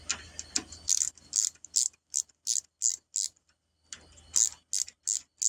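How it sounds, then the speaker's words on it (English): A wrench ratchets on a car battery's negative terminal bolt, a run of crisp clicking bursts in quick rhythmic sets with a short pause midway, close and fairly quiet with no talking. "we will take the negative here and I'm going to go ahead and loosen these up"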